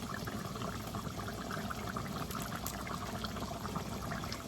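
Water is poured into a pot of rice for a Kenyan-style thiebou yapp, a faint, steady splashing trickle with no talk.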